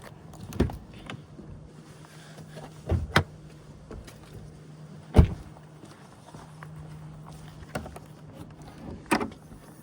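On a diesel Audi Q7 50 TDI, a handful of sharp clunks and knocks, likely the bonnet latch releasing and the bonnet lifting, stand out over a faint low hum, spaced irregularly across the stretch.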